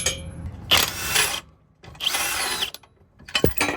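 A power tool whirs in three short bursts with brief pauses between them, undoing gearbox cross member bolts under a car, close by and moderately loud.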